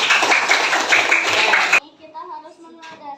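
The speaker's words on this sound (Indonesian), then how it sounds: "Oke, sekali lagi tepuk tangan untuk semuanya." Short burst of group clapping from students in an Islamic religious education classroom, lasting under two seconds and then stopping abruptly, followed by quieter scattered voices.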